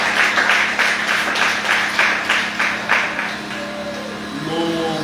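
A church congregation applauding during a French-language worship service, a steady wash of many hands clapping in quick uneven rhythm, loud and close, with a sustained tone entering near the end.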